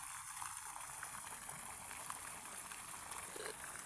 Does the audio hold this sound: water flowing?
yes